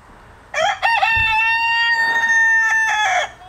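A chicken gives a loud, drawn-out call with a few short clucks before and after, close and alone.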